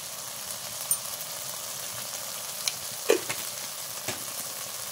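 Onion-spice masala frying in a pan, a steady low sizzle with a few light clinks and scrapes of a spoon stirring, close and fairly quiet.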